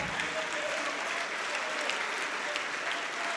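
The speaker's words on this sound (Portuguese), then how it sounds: "Vamos aplaudir mais ao nome de Jesus" A church congregation applauds steadily during a Portuguese-language sermon, a full, even wash of clapping from a large crowd that holds constant throughout.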